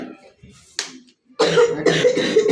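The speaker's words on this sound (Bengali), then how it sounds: "কাশতে থাকা যাবে না এখানে" Man coughing nearby in a few short bursts, then a louder harsh run of coughs with throat noise toward the end, in an otherwise quiet room.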